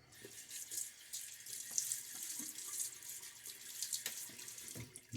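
A bathroom tap runs while a face is wetted for a wet shave, giving a steady splashing water stream with hands cupping and slapping water, close and fairly quiet, with no talking.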